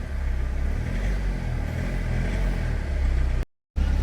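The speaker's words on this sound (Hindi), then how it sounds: "तो 1500 आरपीएम में इंजन में टक टक साउंड आ रहा है।" Diesel engine of a Tata Safari Storme held at 1500 rpm with a cylinder 1 fault, its steady idle-like drone carrying a fine ticking knock throughout, close and loud, cut by a brief gap of silence near the end.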